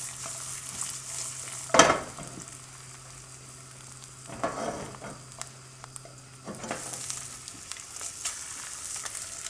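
Food bubbles and fries softly in a Rock Cookware Diamond Edition non-stick pan, a faint steady sizzle broken by a few brief scrapes and stirring sounds.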